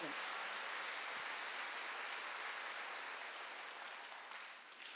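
A church congregation at a Sunday worship service applauds together, a dense, even wash of clapping that holds steady, then thins slightly toward the end.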